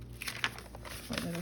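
Paper folded by hand for a junk journal envelope, with a few short crinkles and creases close by, quiet and brief.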